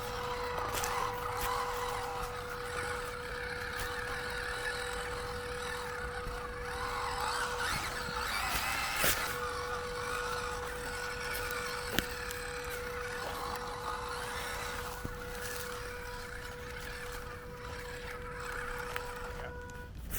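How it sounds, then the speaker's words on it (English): Budget MN82s LC79 scale crawler RC car driving with a loud, steady whine from its speed controller, a constant tonal hum running throughout with occasional clicks, no talking. "ESC is super loud."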